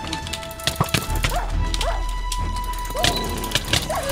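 Wolves attack in a Minecraft fight, with short yips, barks and whimpers scattered among sharp hits and crashes, loud and close, over a low constant game hum.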